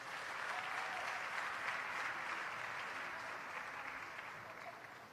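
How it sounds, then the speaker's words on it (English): An audience at an international conference in Tanzania applauds, a dense, steady wash of clapping that holds for several seconds and eases slightly at the end. "Let's give them a big round of applause."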